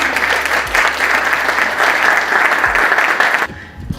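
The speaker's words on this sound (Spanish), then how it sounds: "un fuerte aplauso para Marcela" Loud audience applause at a presentation on a single-use plastics law, a dense, steady roar of clapping that carries on for about three and a half seconds, then cuts off abruptly.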